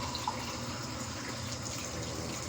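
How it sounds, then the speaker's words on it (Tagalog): Water pours steadily into a cooking pot while a home-style dish is prepared, a continuous close splashing fill that holds for the whole stretch without talk. "Lagyan natin ng panghuli yung tubig."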